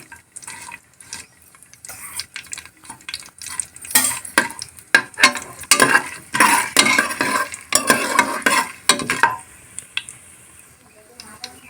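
Ingredients for mutton biryani fry in a pot, giving soft sizzling with bursts of stirring and metal scraping that grow busier midway, while a person talks over the cooking.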